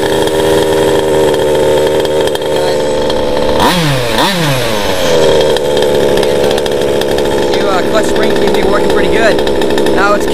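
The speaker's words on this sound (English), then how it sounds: "I'm just going to turn on real quick and see how fast it starts up." A Losi 5ive T RC car's small gas engine is cranked by an electric starter, whining briefly before catching and running at a loud, steady buzzing idle that carries through to the end.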